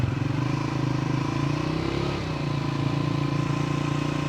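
A Triumph Speed 400 motorcycle engine holding steady at about 4500 rpm while riding, a loud, even mid-pitched drone with a fine rapid pulse and a slight dip midway, alone without talk.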